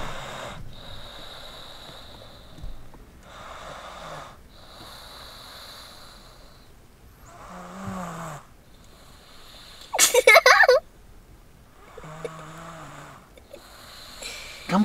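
A little girl snores while asleep in a parked car, with soft, repeated snorts and breaths at close range. A brief louder rustle comes near the middle, and quiet voices are heard at times.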